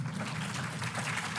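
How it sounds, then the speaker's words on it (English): Audience applause for Professor Sifiso Mxolisi Ndlovu at a public lecture on the Soweto Uprisings: a steady, dense wash of clapping that holds at an even level throughout, moderately faint and without talk. "Another round of applause for Professor Ndlovu."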